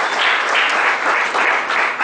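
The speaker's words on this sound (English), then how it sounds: "Big round of applause, ladies and gentlemen" A seated audience at a valedictory session claps in a dense, steady burst of applause, loud and even throughout, with no voices standing out.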